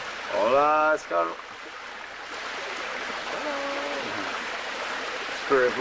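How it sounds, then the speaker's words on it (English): Water of a jungle stream being waded through makes a steady, moderate rushing wash, with people talking briefly over it at the start and end. "Safer to walk in the water, so keep in the middle of the water."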